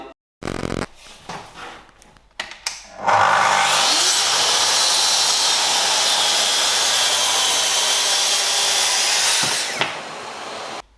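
A Festool TS55 FEQB plunge saw cuts a 16 mm melamine panel with a loud, sustained whine and rasp lasting several seconds, after a few clunks and handling knocks as the saw is set up and started.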